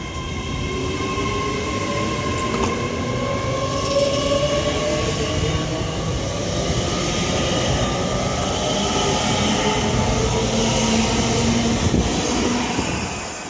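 A 7-coach IET train passes through Milton Keynes Central station on the West Coast Main Line, a continuous loud rumble of wheels and traction hum rising and holding throughout.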